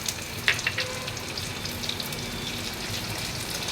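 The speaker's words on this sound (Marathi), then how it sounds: "आता यामध्ये मी टोमॅटो टाकून घेते" Tomatoes go into reddened onions frying for veg pulao, giving a brief splash of clatter and crackle followed by a steady, moderate sizzle with no voices.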